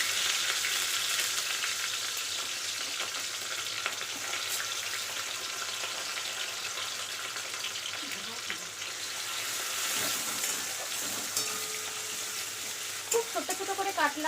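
Small diced potatoes fry in hot oil with a steady, dense sizzle that goes on throughout, close and fairly loud, with a few utensil taps near the end.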